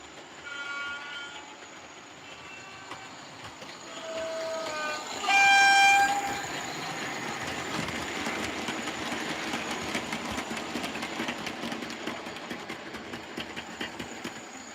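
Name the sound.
model railway Class 20 locomotive running on track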